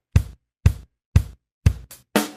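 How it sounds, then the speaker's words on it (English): Four punchy, evenly spaced electronic kick drum hits in a steady four-on-the-floor pattern, programmed in Logic Pro, followed by a shorter hit and a brighter, noisier final beat, all dry and close. "And now I can add a 4 on the floor kick."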